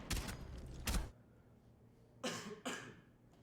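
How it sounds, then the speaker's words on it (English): Several coughs inside a live esports watch-along stream of a Rainbow Six Siege SLC Major match: two sharp bursts early, then a pause and two more a moment later, fairly close and loud over a quiet background. "who keeps coughing?"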